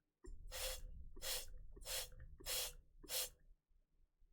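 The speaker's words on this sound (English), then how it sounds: "I'm not just spraying it towards my computer or anything. I have a jar that I am spraying it into." Five quick bursts from a handheld spray bottle misting into a jar, evenly spaced about two-thirds of a second apart, each a short breathy hiss, close and intimate in a quiet room.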